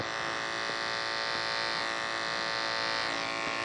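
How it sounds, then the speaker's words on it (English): An electric hair clipper buzzes steadily while cutting low hair in a barber's taper haircut, a close, constant motor hum with no voices. "I'm angling the clipper as such so that I'm only cutting this low part"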